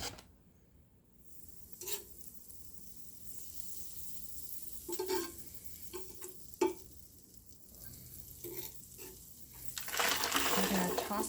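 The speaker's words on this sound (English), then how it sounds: "I'm going to saute those vegetables" Vegetables sautéing in butter in a pan make a faint, steady sizzle, broken by a few clinks and scrapes of a utensil, with a louder stretch of frying toward the end.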